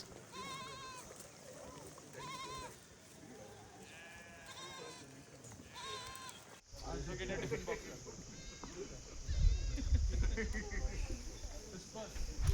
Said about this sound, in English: the entire meadow was filled with sounds of bells and shepherds calling out instructions, and sheep moving